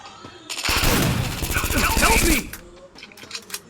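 Shotgun fire in a video game comes as a loud, dense burst of blasts lasting about two seconds, with a voice talking faintly before and after.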